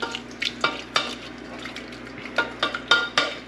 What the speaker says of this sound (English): Just want to keep getting this stirred up,